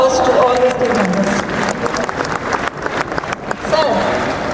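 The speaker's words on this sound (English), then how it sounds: "A big round of applause to all the team members." Audience applause for members of the ONGC Kerala team fills the room as a steady, fairly loud wash of clapping, with voices mixed in throughout.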